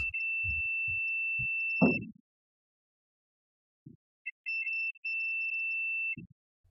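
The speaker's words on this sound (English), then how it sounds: "Every time the multimeter beeps, it's telling me there's continuity between the two contacts." A steady electronic multimeter continuity beep sounds twice, each lasting a second or two, with soft clicks and taps between them and no speech.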